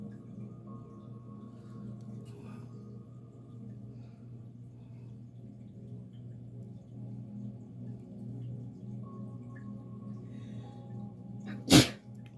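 A single sharp sneeze bursts out near the end, loud and close, over a steady low hum in a quiet room where nail polish is being applied.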